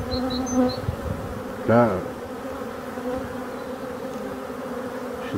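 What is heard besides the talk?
bees buzzing on the drone frames of a hive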